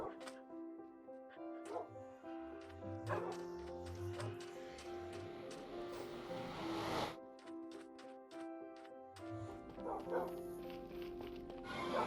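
Minecraft wolves bark in short repeated yips and woofs over a layered musical game background, with a few quick barks close together.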